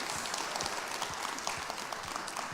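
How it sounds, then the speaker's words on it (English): Crowd applause at a fan meetup with actor Ram Charan for a bike launch, a steady wash of clapping lasting a couple of seconds with scattered louder claps and no talking. "a huge round of applause"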